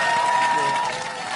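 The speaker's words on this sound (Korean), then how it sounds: "큰 박수 부탁드리겠습니다." A talk-concert audience marking the 70th anniversary of Korean liberation applauds as the Seoul mayor is welcomed, a short dense wash of clapping with crowd murmur and a steady tone underneath.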